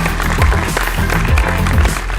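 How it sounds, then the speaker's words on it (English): Audience applause fills an awards ceremony hall for Asia's Leading Brands & Leaders 2024, a dense, steady wash of clapping throughout, with rhythmic music or low thumps running underneath. "Give him a round of applause"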